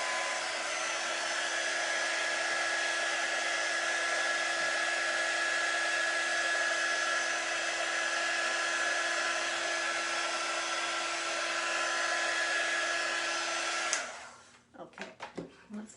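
A dryer drones loudly and evenly over DIY autumn leaf decor for a long stretch with a steady motor whine, then switches off, leaving a few scattered clunks and handling noises.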